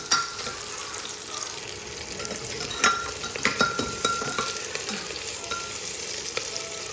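Dried meat (sukuti) fries steadily in a pan as it is stirred, a continuous sizzle broken by light spoon scrapes and taps against the pan.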